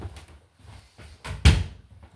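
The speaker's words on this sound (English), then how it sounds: "Had to close my bedroom door even though it doesn't do anything." A bedroom door is pushed shut indoors, giving one solid close thud near the end after a few quieter handling knocks, with no talking.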